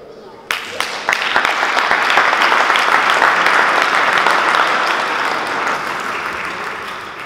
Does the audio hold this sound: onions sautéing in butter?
no